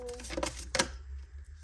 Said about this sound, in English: These cards are super hard to shuffle.